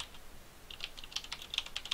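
Quick, uneven keystrokes on a computer keyboard as a search is typed, close and crisp clicks speeding up toward the end, with no voices.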